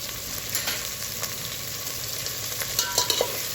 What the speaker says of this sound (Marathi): मसाला चांगला परतून घ्यायचा आहे।